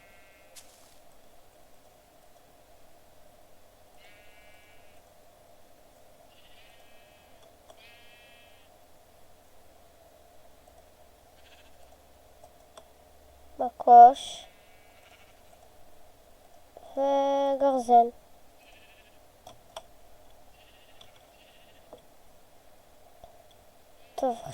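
A sheep in the video game Minecraft gives two short bleats, clear but not loud, over a faint steady background hum, with a brief spoken word at the start.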